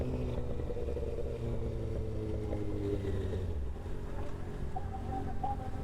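Several Harley-Davidson motorcycles rumble nearby at an Atlanta motorcycle club gathering, a steady, dense low engine drone that continues throughout without talk.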